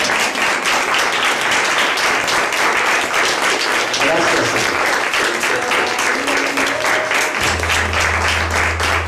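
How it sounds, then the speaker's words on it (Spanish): A church congregation gives a loud, sustained round of applause, dense continuous clapping filling the room, with a voice speaking briefly over it and a low organ tone entering near the end. "Den un aplauso fuerte al Señor."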